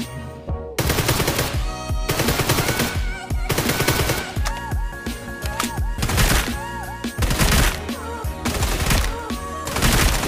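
Groza legendary rifle fired in the mobile game New State, rapid bursts of automatic gunfire repeating across the whole stretch, loud and close with game music and effects layered in, no talking.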